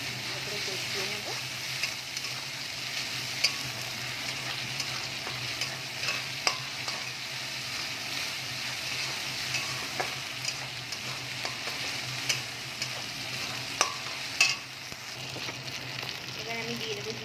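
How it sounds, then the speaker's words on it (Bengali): Ginger-garlic paste sautés in a pan with a steady soft sizzle, broken by occasional scraping stirs of a spoon, close and moderately quiet, with a faint low hum underneath and no voices. "1 চামচ আদা রসুনের পেস্ট দিয়ে দিলাম। তারপরে কষিয়ে নেব।"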